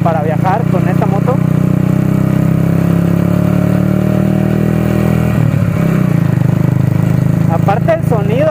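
A motorcycle engine idles with a steady low rumble throughout, while someone talks over it at the start and again near the end.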